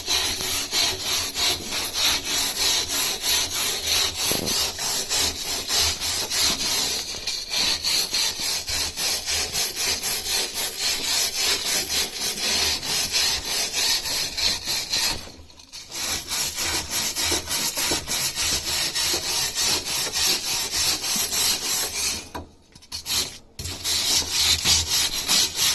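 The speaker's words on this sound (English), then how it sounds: "lie down so I can get the wire brush into this section." Wire brush scrubbing loose surface rust off metal, a loud continuous rasping scrape with fast back-and-forth strokes, briefly pausing twice near the end.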